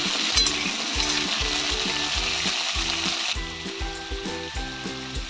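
Diced potatoes frying in oil for an egg curry, with a steady sizzle and a rhythmic series of low scraping, clacking stirs repeating about twice a second throughout, fairly close and with no talking.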